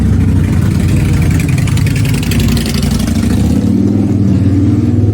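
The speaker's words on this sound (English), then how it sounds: "That's a little bit of a bike going by." A loud motorbike engine roars close by and steadily throughout on a street in New Orleans, its pitch shifting slightly as the bike moves past.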